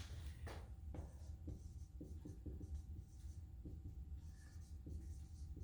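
A teacher writes a word on a classroom board, producing a series of faint scratchy strokes and taps in quick bursts, quiet against a steady room hiss.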